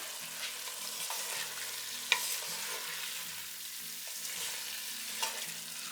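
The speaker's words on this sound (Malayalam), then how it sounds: "എന്നിട്ട് ഒന്നും കൂടെ ഒന്ന് മിക്സ് ചെയ്യാം" Masala with coriander and mint leaves being stirred in a pan for paneer biryani, a soft continuous sizzle with repeated light scraping strokes and a couple of sharper clinks of the spoon, no talking.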